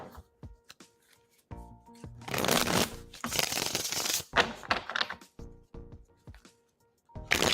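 Tarot cards shuffled by hand up close, with short riffling bursts and soft taps between them, louder flurries in the middle and quiet clicks at the ends.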